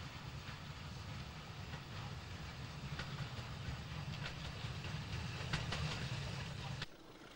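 A steam train drifts toward Roby near Liverpool, heading for Huyton Quarry, with a low rumbling roll and faint rhythmic clanks and hisses heard from some distance before the sound drops away at the end.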